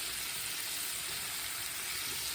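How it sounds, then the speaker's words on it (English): Steady, loud sizzling and bubbling of ribs deep frying in hot oil, a continuous crackling hiss with no voices. "This batch has been frying, so now we're gonna turn them."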